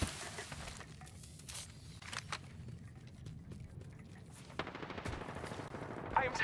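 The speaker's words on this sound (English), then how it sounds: "I am taking fire." Apex Legends battle gunfire, scattered bursts of automatic shots at moderate distance amid busy game ambience, growing closer and denser toward the end.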